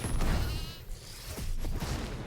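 Sheep bleats from a character transformed in Rogue Loops' sheep mode, several short wavering calls over busy game effects and clatter.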